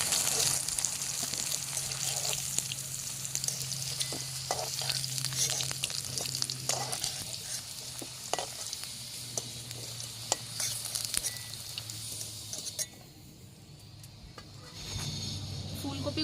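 Cauliflower florets frying in hot oil for an alu fulkopi rui fish curry, a steady close sizzle with occasional stirring clatter, easing off near the end while a low hum fills in.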